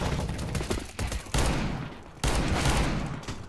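CZ pistol shots in Counter-Strike: Global Offensive pop in two separate loud bursts, each a sharp crack that decays into a brief rattling tail, with lighter clicks and tapping between them.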